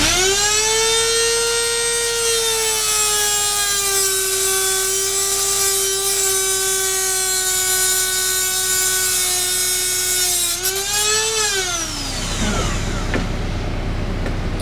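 A power saw cutting wood for a wall-mounted secretary desk build, a loud steady whine held for about eleven seconds, then dipping and spinning down as the cut finishes, close and alone.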